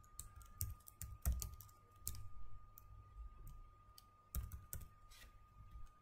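Someone types on a computer keyboard while working in Excel: scattered, irregular key clicks, quiet and close, with brief bursts of keystrokes and short gaps between them.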